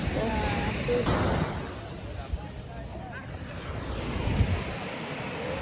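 Sea waves break and wash onto a beach in La Union, a close, steady surf rush with wind noise on the microphone and a faint voice murmuring in the background.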